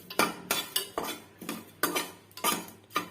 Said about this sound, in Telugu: నూనె వేయకోకుండా డ్రైగా వేయించుతున్నా.